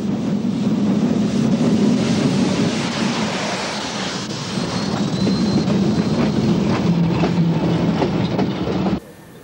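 Steam locomotive 56-140 runs along the Euphrates River in Turkey toward Sivas, a loud continuous rumble of rolling wagons and chuffing with rail clatter throughout, cutting off abruptly near the end.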